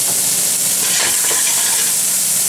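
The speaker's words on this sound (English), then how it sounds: "Now we're going to add the onions to this hot ass swine oil" Chopped onions fry loudly in hot bacon grease, giving a dense, steady sizzle and hiss that runs without a break from start to end.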